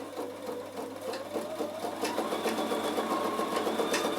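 Bernina sewing machine shirring with elastic through a shirring foot, running steadily for several seconds with a fast, even mechanical whir that swells slightly louder partway through, close and alone without talk.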